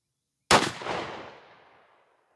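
A 12 gauge 1952 Browning shotgun fires a Winchester Super Pheasant 2-3/4 inch shell with 1-3/8 oz of #6 shot on a turkey pattern test: a single loud, sharp blast with a long fading tail, alone.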